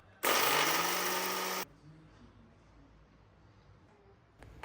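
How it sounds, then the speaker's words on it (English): An electric mixer grinder whirs loudly for just over a second, grinding roasted cumin, coriander and fenugreek seeds into powder, then stops, leaving quiet kitchen room tone and a faint clatter at the end. "Now in a mixer grinder, I will first add the roasted cumin, coriander and fenugreek seed and grind into a fine powder."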